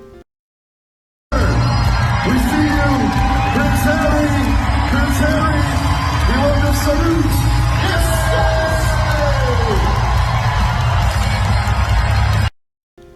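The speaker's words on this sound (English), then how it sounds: "Just look at all of the celebrations, such a raucous crowd." A raucous crowd at a sports match yells, whoops and cheers in a loud, sustained wall of voices, with individual shouts rising above the roar before it cuts off abruptly.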